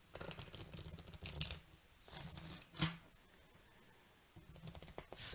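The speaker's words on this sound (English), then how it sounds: "Let me shuffle these a little bit differently." Tarot cards are shuffled in quiet, brisk bursts of soft riffling and flicking, close to the microphone, with short pauses between the bursts.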